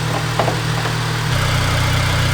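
A Mercedes A/B-Klasse with a 1.6 engine idles close up, giving a steady, low, throbbing hum with a faint knock. The pitch drops slightly partway through, and no one speaks.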